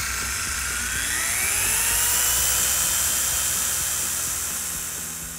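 A dual-action polisher running at speed setting 6 on motorcycle paint and plastic, a steady high-pitched whirring drone with a slowly shifting pitch, loud and close, swelling slightly midway, with no talking.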